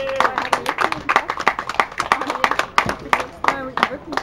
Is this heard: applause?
yes